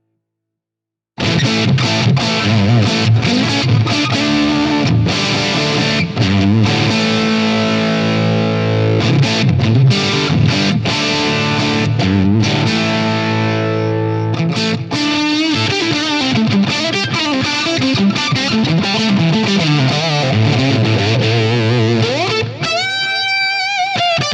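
Loud distorted electric guitar chords played through a fuzz pedal ring out with heavy fuzzy drive, sustained and dense, ending on a few wavering high notes.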